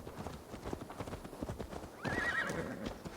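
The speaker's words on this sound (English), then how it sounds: "Horse came for you, my friend." A horse in Assassin's Creed Valhalla trots up with steady, rhythmic clip-clop hoofbeats, then lets out a loud, drawn-out neigh partway through, the hooves continuing beneath it.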